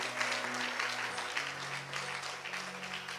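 A church congregation applauds after a scripture reading, a steady wash of many hands clapping together, close and full, with a low hum running underneath.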